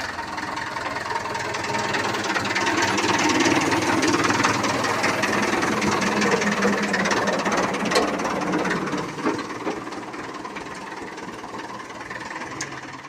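A close, continuous tractor engine drone idling with a knocking, chugging rhythm, steady throughout and easing slightly toward the end, with no talking.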